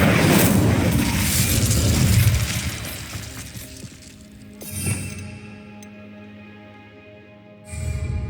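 An Incendio fire spell cast in Hogwarts Legacy, a loud roaring, crackling whoosh of flame that fades over a few seconds, then a softer burst and a later rising swell, with no talk.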